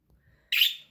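Birds chirp in a short, bright burst that starts about halfway through and fades, fairly close, with near silence and faint low rumble before it.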